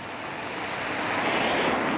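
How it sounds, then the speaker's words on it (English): Road traffic on a Blackpool street, heard as a continuous broadband rush that swells slightly as a vehicle passes close by, with no voices. "Sorry about the traffic noise."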